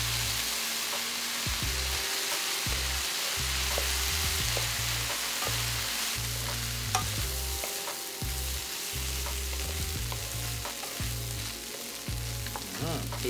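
Rice with turmeric is stir-fried in a pan, giving a constant close sizzle broken by rhythmic scraping and stirring strokes from the utensil.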